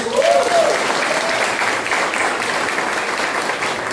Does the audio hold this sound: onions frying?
no